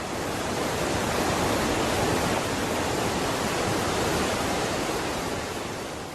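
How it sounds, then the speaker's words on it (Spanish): Wind blows outdoors in the Andes as a steady, dense broadband rush that stays loud and unbroken throughout, with no voices over it. "particularmente aquí también podemos escuchar el viento"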